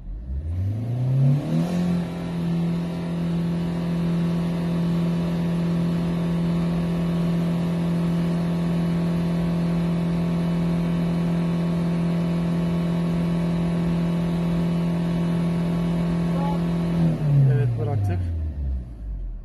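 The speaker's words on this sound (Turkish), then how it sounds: "Gaz ver, tam gaz. Tam gaz veriyorum" Car engine revved to full throttle for an exhaust emission test: the revs climb quickly, hold at a loud, steady, close drone for about fifteen seconds, then fall away, with voices talking over it.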